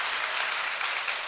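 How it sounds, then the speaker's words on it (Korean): Audience applause at a Korean staff presentation event on stage, a dense, steady wash of clapping that holds evenly for the whole short stretch, with no voices over it. "박수 화끈하게 쳐주시고 시작하겠습니다."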